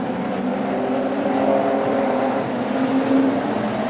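Street stock race cars run at Carina Speedway, a steady engine drone with tonal whine from a pack of cars at moderate distance, sustained throughout with no voices.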